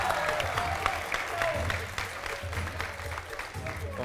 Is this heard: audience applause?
yes